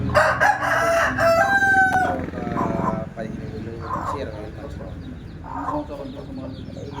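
Native country chickens at a poultry farm cluck loudly and a rooster crows up close. Shorter clucks and calls follow at intervals over farmyard background noise, and someone speaks briefly.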